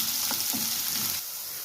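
Chopped onion and garlic sizzle steadily in hot oil, a dense close hiss with a few stirring scrapes, then the sizzle drops quieter for the last half second.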